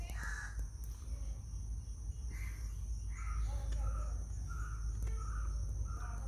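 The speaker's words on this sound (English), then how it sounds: "birds." Crows caw repeatedly over a steady low background hum beside pumpkin vines on a laterite plateau in Goa, with other birds calling faintly at a distance.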